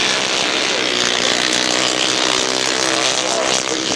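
A 350cc JAP-engined motorcycle races on a grasstrack at a 1991 Sussex meeting, its engine a loud, continuous rasping drone that holds steady throughout with no talking.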